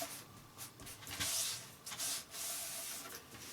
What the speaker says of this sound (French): je passe mon plioir.